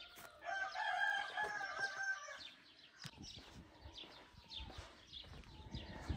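A rooster crows loudly near the start, then hens cluck and murmur softly in the background for the rest of the clip.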